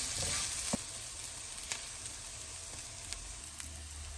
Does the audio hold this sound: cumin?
yes